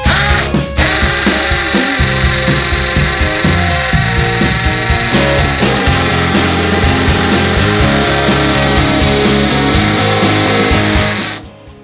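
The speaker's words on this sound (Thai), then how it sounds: "ผมจะลองมากับสว่านกระแทกของสตารี่นะว่าจะไหวไหมจะเข้าไหม" A Stanley cordless impact drill grinds continuously into a hard precast concrete post, loud and close, with a dense rattling hammer-action buzz that holds steady for about eleven seconds before cutting off.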